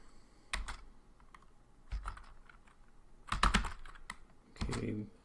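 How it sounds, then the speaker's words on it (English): Someone types a Linux command on a computer keyboard in a few bursts of clicky keystrokes. The typing is close and fairly quiet, with short pauses between the bursts. "by typing the following"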